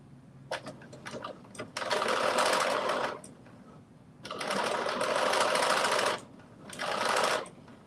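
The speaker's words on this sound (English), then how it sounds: "I'm going to do this edge stitch" A sewing machine runs an edge stitch on a drop-shoulder long-sleeve top. It whirs in three close, loud bursts of one to two seconds each, separated by short pauses and a few light mechanical clicks.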